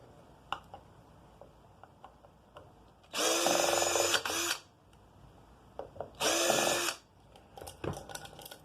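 A power drill or driver whirs in two loud bursts of about a second each while a small fan is taken off an aluminum speaker part during scrap teardown, with faint clicks and handling noises in between.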